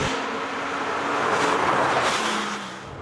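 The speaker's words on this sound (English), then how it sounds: "In the GT2, you get the thing in a straight line and you wind the power on and you ride it out." Porsche 997 GT2 sports car driven hard in a straight line, its engine a loud continuous roar close by that swells and then eases near the end, with no talk over it.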